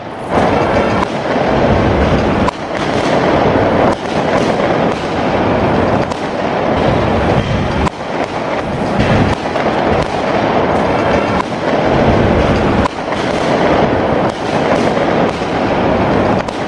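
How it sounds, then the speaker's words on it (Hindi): Dense fireworks and firecrackers crackle and bang continuously, layered bursts and pops overlapping with a loud, rumbling wash of sound. "आतिशबाजी हो रही थी, लोग पटाखे फोड़ रहे थे"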